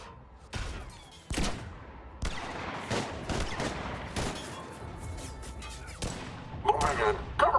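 Cover fire in a Mass Effect 3 video game battle: a string of sharp, separate gunshot cracks and short bursts at moderate distance, spaced irregularly with echoing tails and a clatter near the end.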